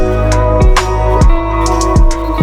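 A 2012 Yamaha Mio Soul GT scooter engine runs up close with a steady buzzing idle, pulsing in repeated surges roughly every half second, with no talking over it.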